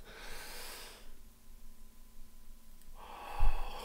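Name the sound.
deep breath for anger management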